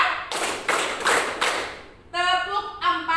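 A standing group claps hands together in counted sets, a few loud, sharp, evenly spaced claps, followed by a voice speaking.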